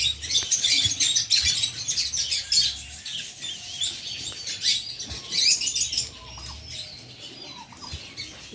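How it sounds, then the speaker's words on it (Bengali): Small birds chirp and tweet in an eco park, with dense overlapping calls in the first three seconds and again around five to six seconds, then thinning to scattered chirps over a low background rumble. "এদিকে আরও পাখি আছে অনেকগুলো পাখি ছোট ছোট পাখি"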